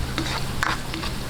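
Garlic hitting melted butter in a pan for sauced pork ribs, a loud, continuous close sizzle with a few light stirring taps over a steady low hum.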